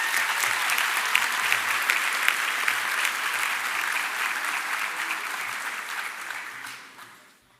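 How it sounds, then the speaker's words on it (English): An audience at a healthcare sciences graduation ceremony applauds its graduates with sustained, even clapping that carries on for several seconds before fading out at the end. "let's give our graduates a round of applause"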